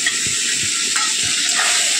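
Spices and cauliflower frying in a pan for a Bengali fish curry, with a strong continuous hiss of sizzling oil and soft intermittent stirring scrapes, close-up and with no talking.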